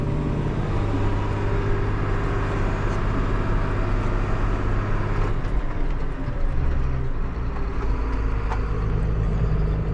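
A big green John Deere farm tractor, nearly stuck, roars steadily as its wheels spin, with loud continuous low engine drone and grinding close by and no talking.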